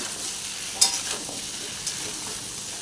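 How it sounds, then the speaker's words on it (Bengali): Food frying in a pan with salt and turmeric is stirred, giving a steady soft sizzle with a couple of sharp scraping clinks from the utensil against the pan. "একটু নুন দিয়ে দিলাম আর একটু হলুদ দিয়ে দিলাম, দিয়ে একটু নেড়ে চেড়ে নিচ্ছি।"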